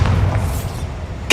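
Bombarda, a blasting spell cast in the video game Hogwarts Legacy, gives a low rumbling boom that holds steady and then ends in a sharp burst near the close, loud and close with no talking.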